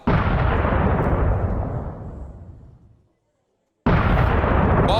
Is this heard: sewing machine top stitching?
no